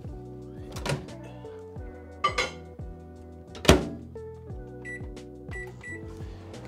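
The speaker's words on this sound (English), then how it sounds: "I'll put a glass of water in the microwave and let's see what happens." A microwave oven heating a glass of water hums steadily at low pitch, with several clunks and thuds from handling or the door over the hum, fairly faint, no speech.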